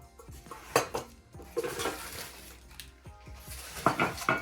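Thick metal mugs being unpacked clink and clatter against each other in scattered, uneven knocks and rattles, close by and moderately loud, with no talk.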